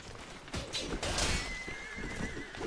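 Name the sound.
horse neighing in video game Mount & Blade Warband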